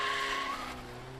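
A left-hand-drive Ford Escort with about 40,000 miles skids through a reverse J-turn, a loud tyre squeal with engine noise that sweeps through the turn and eases off toward the end.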